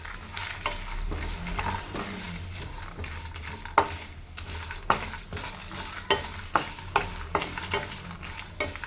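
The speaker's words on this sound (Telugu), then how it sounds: "ఎండుమిరపకాయలు వేసుకుంటాం." Dried red chillies sizzle and crackle in hot oil over partly roasted masala for nalleru chutney, stirred continuously, with sharp scraping strokes growing more frequent toward the end.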